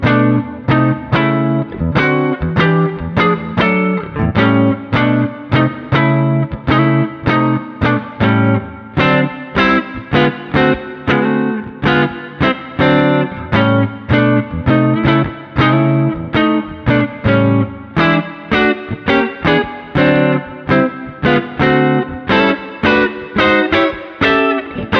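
An electric guitar with a distorted, effects-laden tone plays a blues rhythm in A, striking one chord per beat in a steady driving pattern, loud and alone with no talking.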